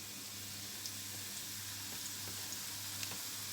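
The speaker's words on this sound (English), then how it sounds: "The onions and the garlic being caramelized" Onions and garlic caramelizing in a hot pan give a quiet, steady sizzle with faint scattered pops, heard fairly close and alone, with a low hum beneath.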